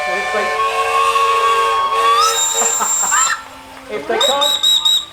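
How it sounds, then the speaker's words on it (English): Several traction engine steam whistles and a steam siren sound together at a Shrewsbury steam rally, loud and sustained, with a rising wail among them, then a fresh burst of shrill tones after a brief dip. "Somebody's got a steam siren."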